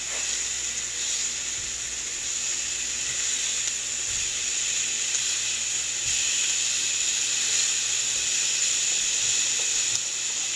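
Thin boneless pork chops sizzling on a hot grill, a loud, steady hiss and crackle running without a break throughout.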